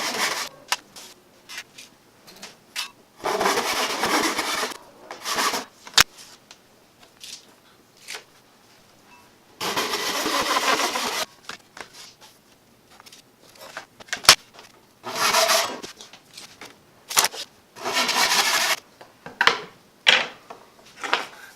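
Cheap wooden strips being cut into two-foot lengths with a saw, heard as several separate bursts of rasping strokes lasting a second or two each, broken by quiet pauses and clicks; no voices.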